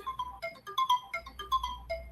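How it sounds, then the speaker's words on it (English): A phone alarm ringtone plays a quick, bright, repeating electronic melody, fairly quiet and with no voices over it. "Trying to get my alarm off here."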